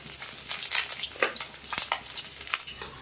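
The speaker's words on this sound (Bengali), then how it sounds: "একইভাবে কিন্তু এই মাছগুলো ভেজে নেব আমি" Small puti fish fry in oil in a pan, a steady close sizzle with crackling spits and occasional scraping stirs, with no talk over it.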